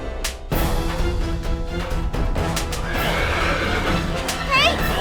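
A restless horse neighs and whinnies loudly close by, with hoof clatter and people talking over a busy, dense background.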